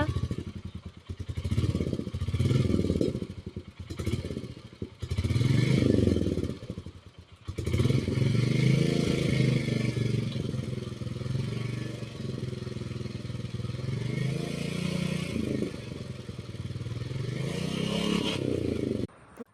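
Royal Enfield Meteor 350 motorcycle exhaust rumbling close by, a steady loud low thump with several revving surges early on, then a sustained throbbing run to the end.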